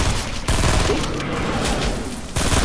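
Hunting rifle gunfire in a shooting video game, a loud continuous burst of shots filling the whole clip, with a brief dip early and another near the end.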